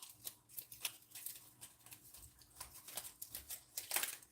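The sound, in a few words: cutting leaves off fresh garden beets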